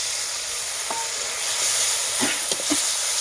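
Steady, bright sizzle as a spice paste hits a hot pan for fish-head mung dal, with a few soft stirring scrapes and bubbling pops toward the end.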